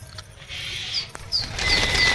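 Pigeons kept for rooftop racing flap their wings in a broad, rustling flutter that swells and fades over about two seconds, with faint chirps and a rising burst of wingbeats near the end, fairly close and without talk.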